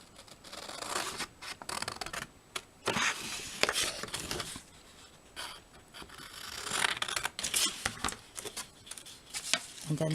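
Scissors snipping through paper or card while a small box is cut, in a series of short crisp cuts and rustles spread across the span with brief pauses, close up and fairly quiet.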